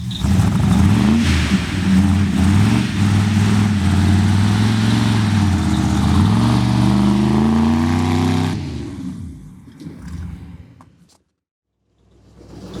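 A 1972 Chevrolet C30 dually truck with exhaust stacks drives by, its loud engine droning and shifting pitch steadily for about eight seconds before dropping away abruptly into quiet.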